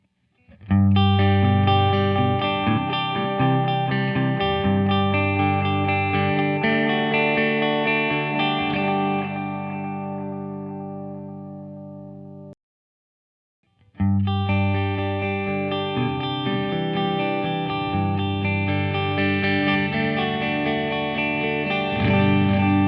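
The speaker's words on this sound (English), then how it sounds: "So we'll check out the delay real quick, and we'll go back to vintage" Electric guitar played through a Keeley DDR drive, delay and reverb pedal with the delay engaged: two loud, sustained strummed passages with ringing repeats, split by a short silence.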